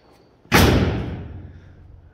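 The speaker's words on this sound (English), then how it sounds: "Shut this door real quick." A car door on a 1929 Ford Model A rat rod slams shut with one loud, close, broadband thud, and the heavy boom rings out and fades over about a second and a half.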